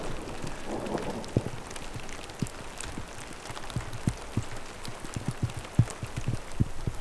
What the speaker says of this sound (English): She's really coming down, hail and everything.